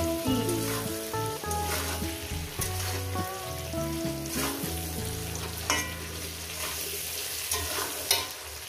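Vegetables fry in a pan over a medium gas flame with a steady, soft sizzle and occasional stirring clicks, partly masked by tonal background music.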